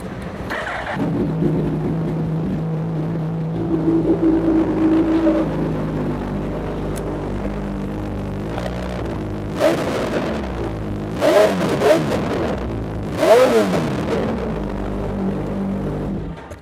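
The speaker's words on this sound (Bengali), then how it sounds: "এটা এক্সজস্ট আরেকবার শোনো" Suzuki Hayabusa superbike exhaust idling with a deep throbbing burble, then three sharp throttle blips rising and falling one after another, loud and close.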